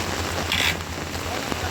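Heavy rain falls in Kotli, Azad Kashmir, as a dense, steady hiss that fills the short stretch. A low engine-like hum runs underneath.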